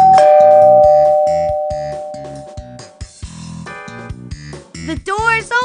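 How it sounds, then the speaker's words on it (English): A doorbell chimes loudly inside a house in the children's game Arthur's Puppet Theater, one clear ding-dong whose ring lingers and decays before choppy, voice-like sounds follow. "The doorbell rang."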